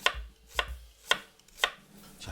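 A knife chops a radish into thin slices on a cutting board for pot-cooked rice, giving four or five crisp, evenly spaced knocks about half a second apart, close and clear.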